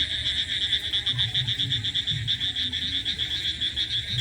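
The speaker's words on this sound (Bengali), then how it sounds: "এই রাতে একটা জিনিস খুব ভালো লাগে, ঝিঁঝি পোকার ডাকটা খুব দারুণ লাগে। মিলিয়ে মিলিয়ে ডাকছে" Crickets chirp on a pre-monsoon night outdoors, a steady high pulsing trill with low faint rustling underneath.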